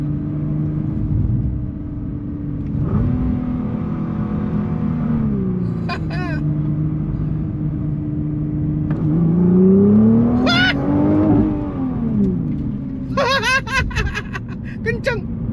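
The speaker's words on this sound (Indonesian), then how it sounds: "Dengerin ya, ini gigi 2 saya masukin 1." A new Nissan X-Trail accelerates on a test track, its engine note rising and falling through gear changes with a steady close rumble, while someone talks over it throughout.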